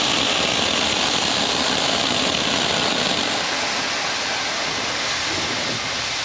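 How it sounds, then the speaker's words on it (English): Pressurized propane vapor and liquid vented from a short section of piping between a shut-off valve and the loading arms, giving a loud, steady broadband hiss that holds for the whole stretch without a break. "That's just bleeding off what's in these sections of the piping right here between the shut-off valve and our loading arms."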